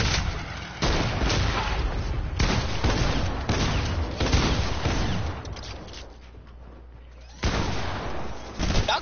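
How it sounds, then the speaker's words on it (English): Rapid bursts of video game gunfire from a battle royale cup match, loud, dense and booming, with heavy volleys separated by short lulls and voices faintly mixed in. "You shooting at me."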